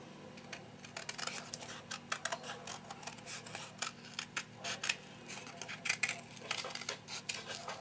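Scissors snip through paper to cut out a rough shape for a crochet-covered page layout, a run of quick, close, crisp cuts in uneven rhythm with short pauses, no voices.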